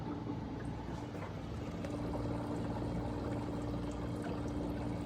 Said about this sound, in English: So it's doing the automatic flush.